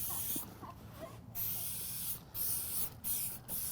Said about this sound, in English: So now I'm going to take and spray that boot, the whole thing.